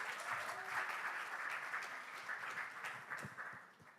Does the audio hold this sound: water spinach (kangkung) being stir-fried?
no